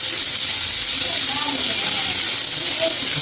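Onions sizzle in hot oil in a home kitchen, a dense, loud, continuous frying hiss that fills the whole stretch with no pauses and faint scraping underneath.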